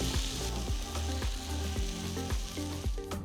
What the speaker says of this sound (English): Saute everything together until soft and mushy.